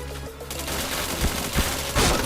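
Rapid bursts of gunfire in the PointBlank online shooter game, loud and close, with sharper shots standing out near the middle and end over dense continuous firing.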